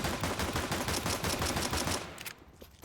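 Rapid automatic gunfire in a Counter-Strike 2 match, a steady run of sharp closely spaced shots for about two seconds that then breaks off into quieter fading sounds.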